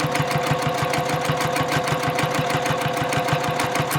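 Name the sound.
sewing machine backstitching a messenger bag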